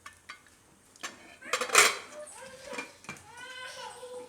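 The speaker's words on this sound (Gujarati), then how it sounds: "તો કુકરનું ઢાંકણું હવે બંધ કરી દઉં." A pressure cooker lid is closed over khichdi: a few soft scrapes, then one sharp metallic clank, with quieter clattering after it.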